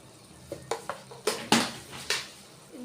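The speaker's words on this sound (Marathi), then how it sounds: "थोडंसं मिळून हे परतून घ्यायचं असं मिक्स करायचं" A spoon stirs chili powder and salt into stuffed capsicum frying in a pan, giving several separate metallic clinks and scrapes against the pan over a faint low sizzle, with no talking.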